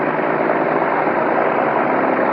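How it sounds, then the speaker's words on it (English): Several World War I airplanes taxi out with engines idling, producing a steady, muffled droning rumble that carries on without a break. "Now they're taxiing out."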